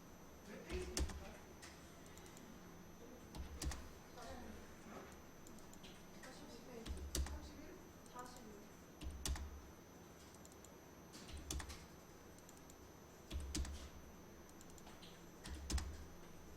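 Bursts of keyboard typing and key clicks come in short clusters every couple of seconds, fairly quiet, over a low hum and soft talking.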